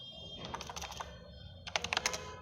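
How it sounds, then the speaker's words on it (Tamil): Typing on a computer keyboard while entering text into a PageMaker document, with two quick runs of close, crisp key clicks separated by a short pause and no voice. "நம்ம டைப் பண்ண ஆரம்பிக்கிறோம்"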